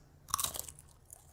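A single crisp, close crunch of a bite into a Cheesy Grooves snack, followed by brief chewing, heard alone without talking.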